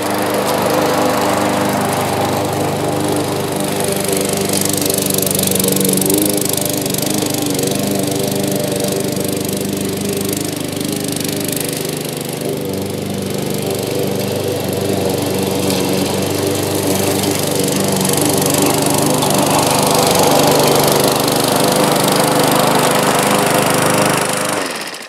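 A Briggs & Stratton 140cc engine on a Bolens by MTD push lawn mower runs steadily after a tune-up, a loud, close, continuous droning roar with no voices over it.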